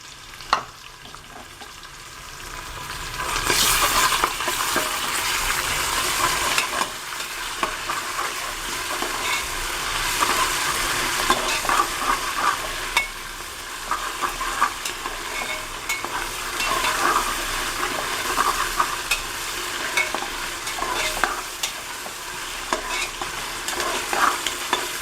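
Ginger garlic paste stir-fried in a pan for masala ghee rice, a steady hot sizzle with repeated scraping strokes of a spoon, close and continuous with no talk.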